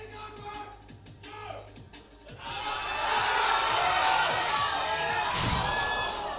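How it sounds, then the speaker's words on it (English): Crowd at a New Zealand national powerlifting championship cheering on a lifter, a rising swell of shouts and whoops that builds to a loud, sustained roar in the second half. "Crowd's getting behind him"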